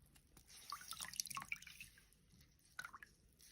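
Water drips from a wet cleaning rag as it is wrung out by hand: a close, irregular patter of small drops, busier in the first half and then thinning to a few scattered drips, with no talking.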